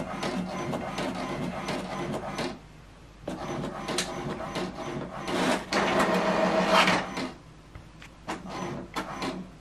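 HP DeskJet 2722 inkjet printer printing a colour page, with bursts of mechanical whirring and clattering from the print carriage and paper feed separated by short pauses, close and fairly loud.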